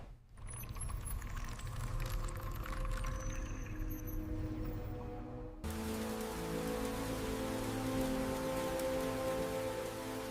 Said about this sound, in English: The rain was still falling outside.